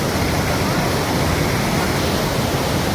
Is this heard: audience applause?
no